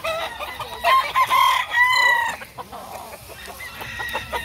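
Roosters crow loudly and close by, with overlapping cock-a-doodle-doo calls and some clucking from well-kept fowl, rising and falling over a few seconds.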